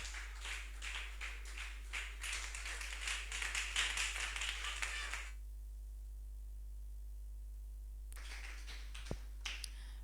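A church congregation claps together in rhythm for about five seconds during an evening service, loud and close, then falls almost silent, with a few faint taps near the end.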